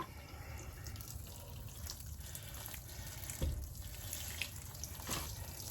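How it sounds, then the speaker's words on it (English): Water pours steadily over freshly planted delphinium seeds in a pot, a soft continuous trickle with a few faint drips and small knocks, close and without talk. "Now we'll give that a good drink of water."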